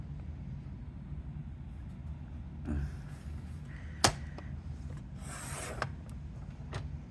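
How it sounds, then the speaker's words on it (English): Watercolor card paper being trimmed, a few scattered sharp cuts and rasping slices over a quiet room hum, the strongest snip near the middle. "I need to trim it just a little bit"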